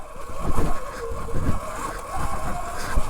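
E-Ride Pro 2.5 electric moped ridden in sport mode into a forest, with loud, close rumbling tire and wind noise that surges in uneven bursts as it rolls over rough ground.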